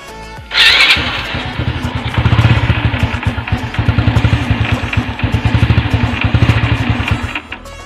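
A Honda XRM motorcycle with a cracked piston, smoking as it runs: the engine starts and settles into a loud, close, rough idle with rapid uneven knocking and clatter, and no speech.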